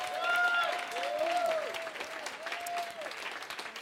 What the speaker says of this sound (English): Clap it up, everybody.